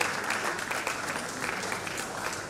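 An audience at a science and technology lecture applauds the keynote speaker's representative with dense, continuous clapping at an even, moderate level throughout.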